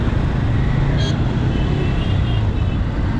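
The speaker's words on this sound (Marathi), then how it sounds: "तिथे फुल ट्रॅफिक आहे" Evening road traffic in Andheri West, Mumbai, rumbles in a continuous wash of car and motorbike engines, with a brief horn-like tone rising above the steady noise.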